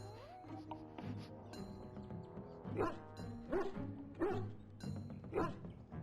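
A dog in the video game Dragon Age Origins gives four evenly spaced barks or yips, moderately loud over a steady game music and ambient background.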